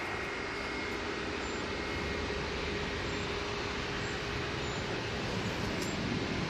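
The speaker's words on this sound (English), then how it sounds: "This is QR22, using the 787-9 Dreamliner for Qatar Airways to go back to Doha" A Qatar Airways Boeing 787-9 Dreamliner jet roars steadily at an airport as a broad, sustained engine rush that swells slightly toward the end.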